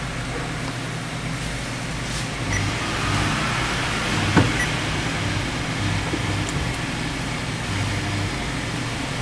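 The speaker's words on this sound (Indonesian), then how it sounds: "Kita dengar suara mesinnya." A new 2022 Suzuki Ertiga Hybrid idles steadily with its engine running, a soft even hum heard from inside the car, with no voices and one brief thump about halfway through.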